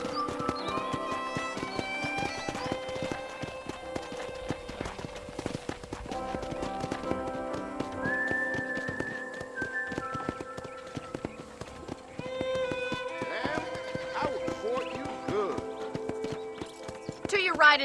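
Steady clip-clopping horse hooves trot along under a bed of music in a video game, with a brief whinny and a spoken voice partway through.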